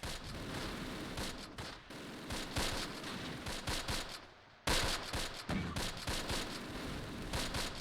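Rapid gunfire rattles through a Close Combat Last Stand Arnhem battle set in Veghel in 1944, with dense volleys of shots and bursts, loud and continuous with a brief lull before firing resumes.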